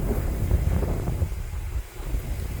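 Strong wind buffets the microphone outdoors in Odesa Oblast, a steady low rumbling roar with gusty swells and a brief lull near the end, no voices.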